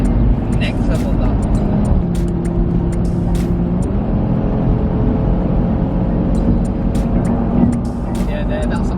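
Audi RS3 8V facelift accelerating hard, its engine note loud and sustained from inside the car, a steady drone that pulls through a gear, with people talking excitedly over it.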